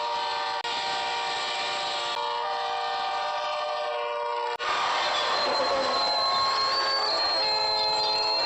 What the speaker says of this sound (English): the train approaches and runs over the man